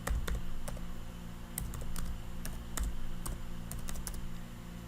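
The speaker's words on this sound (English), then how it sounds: "I will type depreciation here." Steady typing on a computer keyboard, a string of crisp close key clicks at an irregular pace over a low hum, with no voices.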